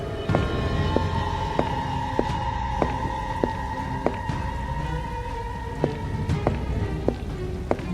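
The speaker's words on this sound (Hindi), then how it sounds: "लगातार हो रही बारिश की आवाज के अलावा वहां कुछ भी सुनाई नहीं दे रहा था" Steady rain patters on surfaces with scattered drips tapping close by, under a sustained tonal hum in the background.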